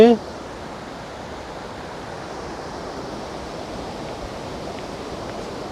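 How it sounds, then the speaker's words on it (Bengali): Water runs in a stream on a Daringbadi hillside tour, a steady broadband rush that holds even throughout, fairly close and without pauses. "ওই দিক থেকে জলের ধারা চলে আসছে"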